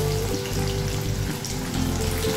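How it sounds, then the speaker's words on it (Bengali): Onion garlic paste hits a hot pan for matar ghugni, giving a dense, steady frying sizzle throughout with no talking. "একসাথেই আমি দিয়ে দিচ্ছি পেঁয়াজ রসুন বাটা"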